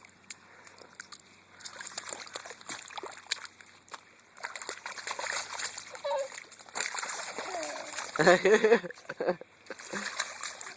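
A child splashes through a water puddle in repeated wet bursts, the biggest splash landing near the end, with adults talking and exclaiming over the sloshing.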